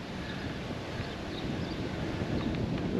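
Steady wind rushes outdoors beside the Murray River, a broad continuous roar that builds gradually and buffets the microphone.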